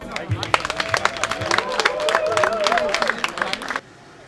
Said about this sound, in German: Dann bitte einen großen Applaus für eure sechs Maßkrugstämmer.